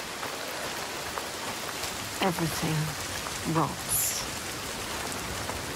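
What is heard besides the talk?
rain in video game Senua's Saga: Hellblade II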